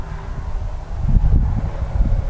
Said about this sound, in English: It's getting kind of windy, which makes it hard to hold the rifle steady.